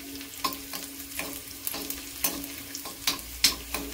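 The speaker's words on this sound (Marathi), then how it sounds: "आता आलं लसूण चांगली भाजली आहे बघा" Ginger and garlic frying in hot oil on a high gas flame for a dried shrimp and potato dish, with soft steady sizzling broken by sharp stirring scrapes and clicks of a spoon against the pan.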